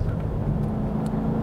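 A 2022 Cadillac CT5-V Blackwing's V8 drones steadily in V mode with track settings, a low, continuous engine rumble heard from inside the sedan for a short moment, with no talk.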